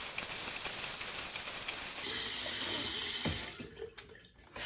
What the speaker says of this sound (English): And then we're going to rinse thoroughly.